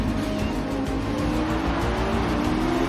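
Race car in an F2 video game at Bahrain, its engine droning steadily at high revs while the tires squeal as traction breaks, loud and continuous with no speech.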